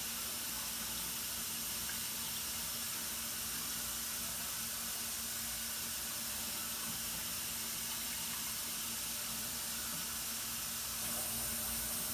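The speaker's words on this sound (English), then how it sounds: "I'm just using the hottest from my tap." Steady hiss of hot water running from a kitchen tap at full flow, constant and unbroken throughout, with no voices.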